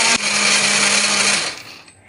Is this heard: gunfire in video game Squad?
no